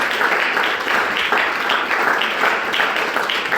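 A church congregation applauds, sustained close clapping with a fast, even rhythm and no talk over it.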